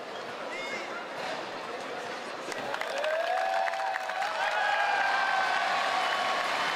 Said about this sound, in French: les applaudissements a priori sont pour Aurel Mangala qui fait son grand retour